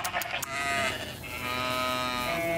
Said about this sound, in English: We're about to go see the sheep right now because they're waiting for me.